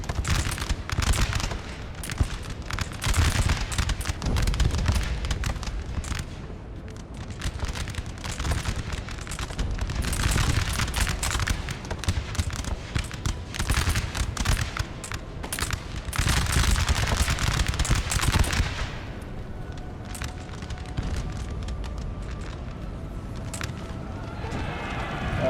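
Massed musket volleys from French line infantry in a Napoleonic battle in Napoleon: Total War, a dense, sustained crackle of overlapping gunfire with heavier bursts, rumbling loud and continuous throughout.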